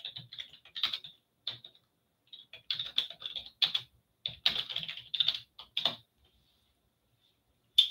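Someone typing on a computer keyboard: quick, light clicking keystrokes in irregular bursts with short pauses, heard close and fairly quiet.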